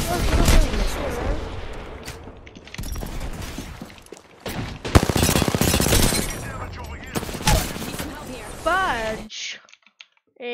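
Rapid video-game gunfire hits camps in loud crackling bursts, broken by brief gaps, while a player talks and shouts over the shooting and keyboard clicks.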